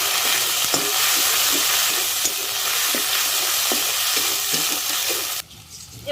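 Ginger garlic paste hits hot oil with panch phoron, dried red chilies and bay leaf, setting off a loud, steady, close sizzle with a few stirring scrapes that cuts off abruptly near the end.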